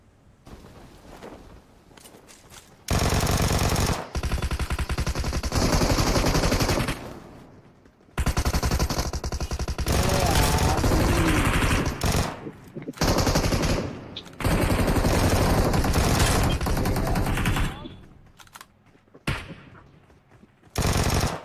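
Rapid automatic gunfire in a mobile shooter game, loud sustained bursts of several seconds each separated by brief pauses, with a voice talking faintly at times.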